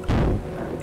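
A missile fired from a warship's VLS tube in Stormworks gives a single loud, deep launch boom that rolls off into a rumbling roar within a second.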